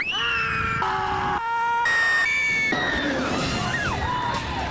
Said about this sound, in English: Screams are a great sign on thrill rides.